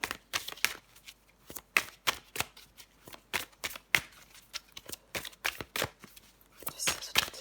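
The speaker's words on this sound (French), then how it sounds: "Allez, encore une carte pour vous les poissons." Tarot cards are drawn and shuffled by hand in a steady run of crisp riffles and flicks, close and fairly quiet, with no voice over them.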